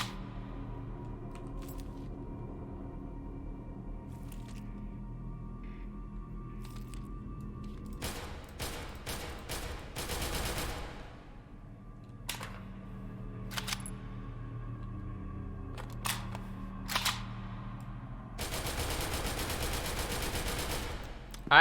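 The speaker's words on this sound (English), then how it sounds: "added AK gunshot in the remaining equip/inspect sounds" Rapid clusters of sharp AK gunshots from the video game SCP: Secret Laboratory crack out in bursts over a steady low background, with isolated single shots and clicks in between.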